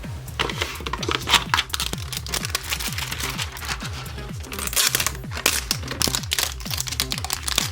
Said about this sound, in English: I think I need some like scissors or something. So let's cut out our toilet.